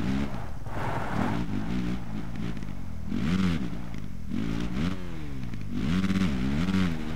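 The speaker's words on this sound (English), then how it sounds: "So here I more or less want to do full throttle." Dirt bike engine held at full throttle in Monster Energy Supercross, a loud, close, buzzing rev that rises and falls in repeated surges as the bike races through the track, with no voices.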